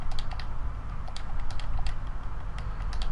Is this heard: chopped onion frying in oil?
no